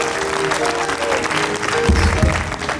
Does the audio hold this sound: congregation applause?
yes